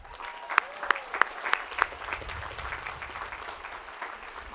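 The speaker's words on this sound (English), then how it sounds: "let's give them a round of applause" Applause at the Cal Poly San Luis Obispo commencement ceremony in 2013, a moderate crowd clapping steadily with a few sharp, distinct claps near the start, heard at some distance.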